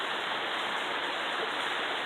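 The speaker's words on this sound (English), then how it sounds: "that waterfall goes all the way up the hill" Steady rushing roar of a hillside waterfall tumbling down toward a deep swimming pool in the Mendocino National Forest, close and continuous with no pauses or voices.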